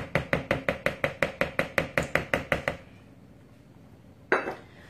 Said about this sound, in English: Now, let me just stir that up a little bit. Let me get a bigger spatula.